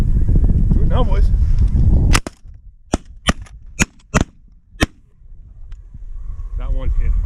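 Shotgun blasts on a snow goose hunt: five or six sharp, loud reports in quick irregular succession, preceded and followed by hunters talking outdoors.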